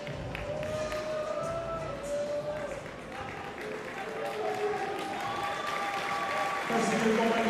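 Audience applause for a bantamweight fighter at a Paris United vs Moscow Kremlin Bears combat event, a steady wash of clapping from a crowd that holds throughout and swells near the end, with an announcer's voice running over it.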